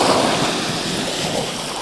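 Sea waves at high tide wash onto a beach in Sariaya, Quezon, a loud, continuous broadband roar of surf with no clear breaks.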